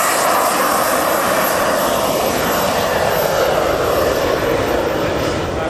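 Jet-Bee experimental RC turbine jet model in flight at the Jetpower Fair; a loud, steady, broadband turbine roar and whine fills the whole stretch without a break.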